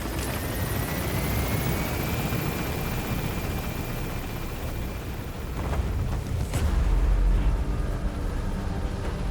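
P-Quad helicopter gaining altitude in Metal Gear Solid V, a loud continuous rotor and engine roar with a rising whine, steady throughout and swelling heavier near the end.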